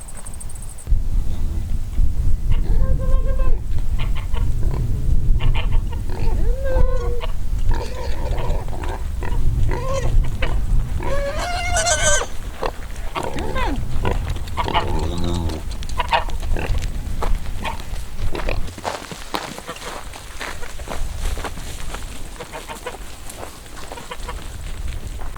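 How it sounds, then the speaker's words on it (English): A friendly female pig named Josephine grunts and oinks on a farm, her close snorts mixed with clucking chickens and other fowl around her, with steady low farmyard noise under the animal calls. "It's a pig. Yes, a pig."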